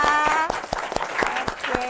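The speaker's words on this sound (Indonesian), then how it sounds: "Tepuk tangan dulu buat kita." Classroom group applause after a primary-school mathematics lesson, a scattered run of separate claps at an irregular pace, fairly close, with a held voice or tone running beneath the first half.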